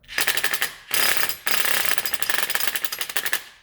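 A pneumatic power wrench with a swivel socket rattles in rapid loud bursts while running up compressor mounting bolts on a 2009 Subaru Forester, pausing briefly between runs.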